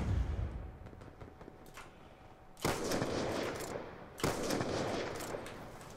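Shotgun blasts in Call of Duty: Black Ops 2 multiplayer, two loud broadband booms around the midpoint and later, each with a lingering tail, over a background of scattered game gunfire and noise.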